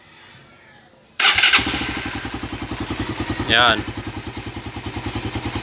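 A Suzuki Raider 150 motorcycle engine with a freshly tuned carburetor catches abruptly after a quiet moment and settles into a loud, close, rhythmic idle with a brief rev, while someone speaks briefly.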